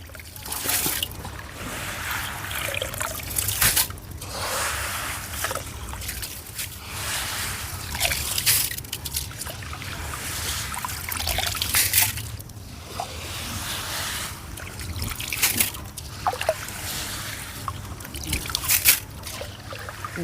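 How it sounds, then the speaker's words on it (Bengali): Boiled paddy is strained and scooped out of its water, giving repeated wet sloshes, trickles and drips in a loose rhythm, close by and moderately quiet. "আমি এইভাবে ছেঁকে ছেঁকে ধানটা তুলে নিচ্ছি"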